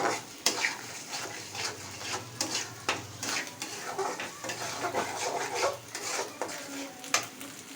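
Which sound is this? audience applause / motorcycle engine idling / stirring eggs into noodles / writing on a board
stirring eggs into noodles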